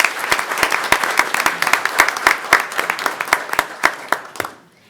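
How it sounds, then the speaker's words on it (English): A modest group in a city commission meeting claps for first place essay contest winners, with sharp distinct claps at a brisk uneven rhythm over a thinner bed of applause that fades out at the end. "let's give our first place winners another round of applause."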